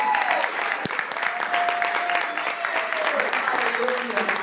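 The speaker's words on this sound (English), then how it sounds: "Come on, let's give GMHC a round of applause." A church audience gives warm, continuous applause for GMHC at a community care event, the clapping steady throughout with a sustained whistle-like tone and a voice briefly audible over it.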